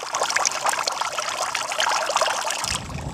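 Water from a home-made waterfall fountain built from an old tyre and fed by a pump pours and trickles steadily close by, a continuous splashing wash that drops slightly in level near the end.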